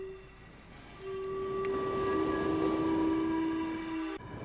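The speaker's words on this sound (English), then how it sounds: "So I guess the sound is made by the wind blowing between these stones." A steady, airy tonal drone of video game wind blowing between stone spires, sustained whistling pitches swelling louder after the first second and holding before dropping off; no voices.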